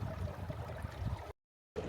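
A mountain stream inlet flowing into Lake Helen in the high Sierra gives a steady, close rushing of water for over a second, then cuts out briefly and resumes.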